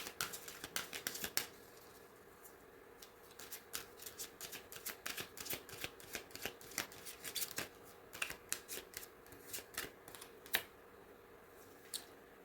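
Affirmation message cards being shuffled by hand, a long run of quick papery riffles and taps close by with a few short pauses, no talking.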